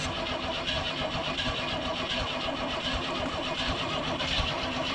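A 1982 Pontiac Firebird, parked in a field since 1993, cranks over while flooded, a steady rhythmic starter churn with engine rumble that never quite catches, fairly quiet and without talk.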